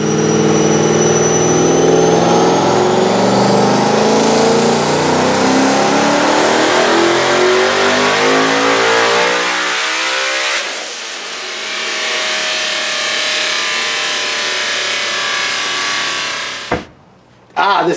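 A turbocharged Hellion street sleeper car engine on a dyno revs under boost all the way to an 8,000 rpm redline, a loud, close, rising roar that holds near the top before cutting off abruptly.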